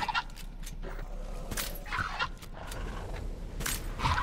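Dinosaur-park bird calls from the video game Jurassic World Evolution 2: repeated gobbling, fowl-like bursts that rise and fall over a steady background hum, alone with no talking.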